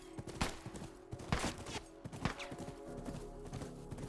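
Horse hooves clip-clopping in The Last of Us Remastered, a run of quick, moderately loud thuds at an uneven gallop rhythm, with a few sharp louder hits layered in and no talking.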